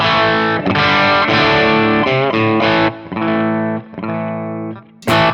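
Distorted electric guitar through a Strymon Iridium amp modeler on a Vox setting plays a short chordal riff with crunchy amp tone and a touch of reverb from an Eventide H9, loud and close, no voices.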